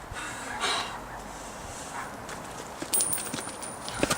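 Horses' hooves clip-clop at a moderate distance in a dramatic street scene, with a few irregular hoof strikes and snorting-like noise under faint background sound.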